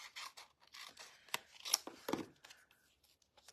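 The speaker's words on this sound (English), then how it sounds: "And let's just snip that off." Scissors snip through paper card stock for a side easel card, giving a series of crisp, quiet cuts and rustles at close range in an uneven rhythm.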